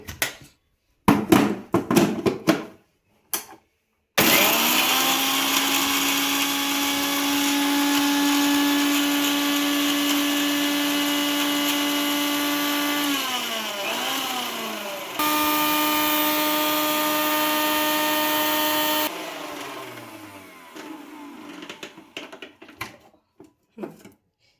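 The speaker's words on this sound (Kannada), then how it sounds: "ಇವಾಗ ಇದನ್ನ ಮಿಕ್ಸಿ ಮಾಡ್ಕೊಳ್ಳೋಣ" A kitchen mixer grinder blends coriander, green chillies and coconut for a buttermilk curry, a loud sustained motor whine running about fifteen seconds with a brief pitch dip mid-run, framed by clattering jar and lid handling before and after.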